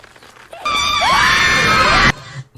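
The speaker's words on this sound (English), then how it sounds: "She's just screaming just like in the intro" A woman's high-pitched scream, a single loud sustained shriek lasting over a second with a wavering pitch, rising abruptly out of quiet and cutting off sharply.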